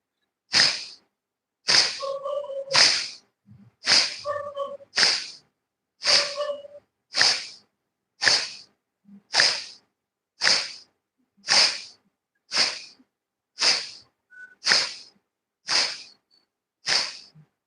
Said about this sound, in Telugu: నెమ్మదిగా ఎక్కువగా గాలి తీసుకోండి